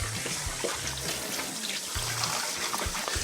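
Tap water runs steadily over a pepper being rinsed, a continuous close splashing and trickling with no talk.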